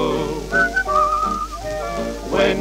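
Melodic human whistling from a Pinocchio song, clear and close, with sustained notes that slide between pitches over a soft background.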